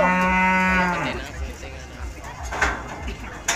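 A cow at a 2020 Javanese livestock contest lets out one loud, drawn-out moo at the start, then fades into crowd noise and people talking nearby.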